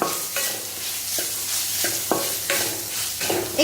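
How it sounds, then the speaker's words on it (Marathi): Grated coconut is stirred and roasted in a pan over low heat, with a steady soft sizzle broken by several sharp scraping strokes of the spoon against the pan, close and moderately loud, with no voices. "हा आता असा मस्त हलवून घ्यायचा."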